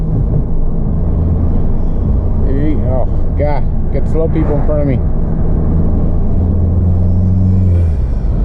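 A VW GTI budget build drives with a loud, constant engine drone and low rumble filling the cabin throughout, while a voice speaks briefly over it partway through.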